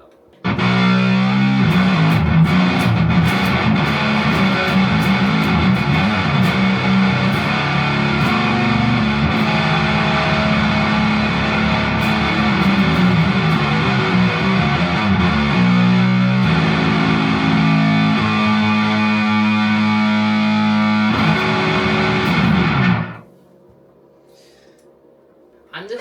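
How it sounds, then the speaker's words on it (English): Distorted electric 7-string guitar through the bridge pickup, playing a sustained, aggressive heavy riff for over twenty seconds before cutting off abruptly, leaving a faint ringing tail. "this is what distortion sounds like on a bridge pickup"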